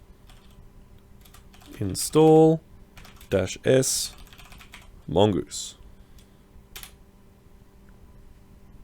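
Someone types on a computer keyboard with light, sparse clicks while a voice speaks intermittently over the keystrokes.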